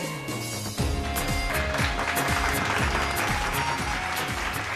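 Loud, sustained applause and clapping from a crowd at a wedding celebration, cheering an older dancing couple, steady and dense throughout after a brief quieter start.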